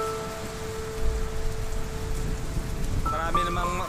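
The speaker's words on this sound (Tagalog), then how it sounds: "Lakas ng ulan, oh." Heavy typhoon rain pours as a steady dense hiss, with a faint tonal hum early on and voices talking toward the end.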